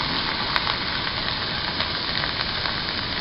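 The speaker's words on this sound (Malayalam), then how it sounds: "അര കപ്പ് ഉള്ളി ചതച്ചത് ചേർത്ത് ഒന്ന് നന്നായി വഴറ്റുക." Crushed onion, garlic and ginger fry in a pan for a traditional Kerala fish dish, a loud, continuous close-up sizzle with steady crackle and no speech.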